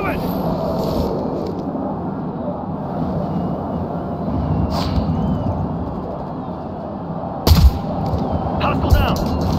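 Enemy gunfire in the video game Ghost Recon Future Soldier, steady rattling battle noise throughout with a couple of sharper, louder shots near the end, voices and game chatter mixed in.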